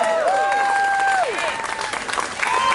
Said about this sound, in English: So make sure it's some big rounds of applause.